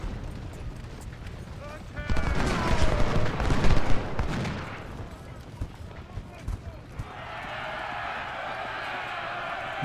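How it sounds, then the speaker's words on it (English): Musket and rifle fire, including Colt 1855 rifles, rings out in Ultimate General Civil War as a crackling burst of volleys lasting a couple of seconds, with someone talking over it, before settling into quieter battle ambience. "Guns opening on them."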